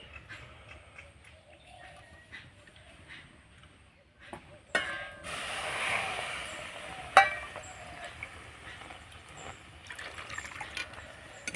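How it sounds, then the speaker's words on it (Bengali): Milk is poured from a bowl into semolina for a sweet pitha, giving a soft liquid pouring and splashing sound with a few light knocks of the bowl amid quiet kitchen background. "আমি দিয়ে দিব দু বাটি দুধ"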